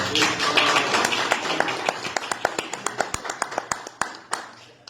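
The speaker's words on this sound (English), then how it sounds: "Please give him a round of applause." A small gathering at an inauguration ceremony gives a round of applause that starts as a busy patter and thins into a few sparse, distinct claps near the end, with faint voices beneath.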